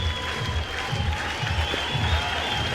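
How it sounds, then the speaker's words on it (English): A crowd applauds steadily at a dressage event for young horses, with sustained clapping from a large audience heard at a distance, while a voice speaks faintly underneath. "The crowd are loving it."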